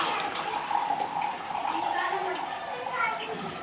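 Water runs from an Enagic SD501 Kangen water machine, a steady close splashing stream with a voice chattering faintly underneath.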